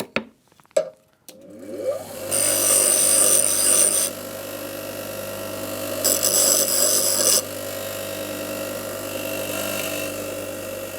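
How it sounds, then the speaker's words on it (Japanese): A chisel scrapes across the sole of a small Japanese hand plane in two long, rasping strokes, loud and close, over a steady low hum. "のみをこういうふうにザーッとやります"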